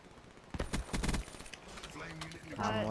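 Rapid gunfire bursts from the video game Black Ops 3 crackle through the first half, followed by quieter game sounds while a person talks over them.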